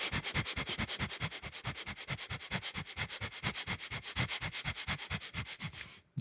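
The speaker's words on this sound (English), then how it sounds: "This is just sniffing the prana throughout the body." Rhythmic nasal sniffing breaths during a meditation practice, about two dozen short quick inhales in a steady even pulse, close and clear with no talking, ending abruptly.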